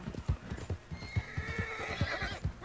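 A horse in Red Dead Redemption 2 gallops with steady, rapid clip-clop hoofbeats and gives a high whinnying neigh over them, all fairly quiet and close, with no talk.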